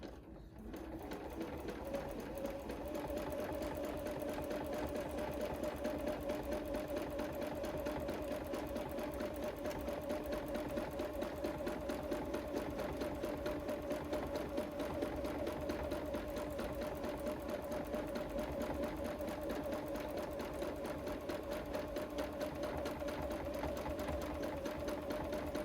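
A sewing machine runs steadily through free motion quilting, its needle stitching in a fast, even, continuous hum that stays loud and unbroken for the whole stretch with no talk over it.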